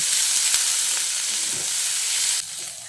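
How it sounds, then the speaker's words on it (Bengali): Onions and green chillies fry in hot oil while being browned for a Bengali gathi kochu (taro) curry, a steady close sizzle with brief stirring knocks, easing slightly quieter near the end. "পেঁয়াজটাকেও এবার আমি একটু বেশ লালচে করে ভেজে নেব।"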